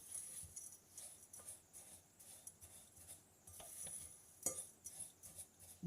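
Stirring ingredients coated in oil in a bowl for a crunchy breakfast energy galette: faint, scattered scraping and light clinks of a utensil against the bowl, quiet and irregular.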